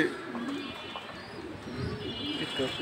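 A male Afghan grizzle racing homer pigeon coos in low, soft, rolling phrases, close by, with faint chirps and light background noise around it.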